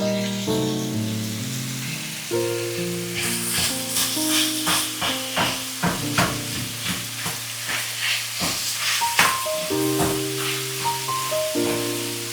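Chopped onions, green chili, ginger and garlic sizzle loudly in oil for a Kerala prawn biryani, a close frying hiss with rhythmic stirring scrapes, under sustained background music.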